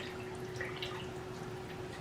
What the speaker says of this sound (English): is pour it into these clean hot jars, and we'll can it.